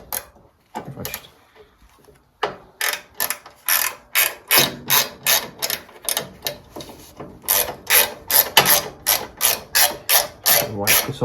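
A ratchet clicks in quick, regular bursts during repairs on a 1962 Bolens Ride-a-matic riding mower, the rhythmic ratcheting close and loud with brief pauses between strokes.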